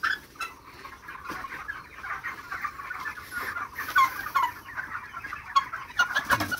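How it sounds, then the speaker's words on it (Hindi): Several broiler chickens cluck and murmur close by in a steady, busy chorus, with occasional sharper calls rising above the flock. "और भी 2-3 मुर्गी हम लोग चेक करेंगे"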